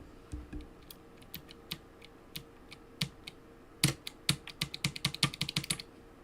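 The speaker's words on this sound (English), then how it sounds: "I'm going to gently pull my keyboard apart" Clicks and snaps of a computer keyboard being pried apart by hand as a keycap is worked loose, scattered at first and then coming in a quick, close burst of sharp plastic clacks.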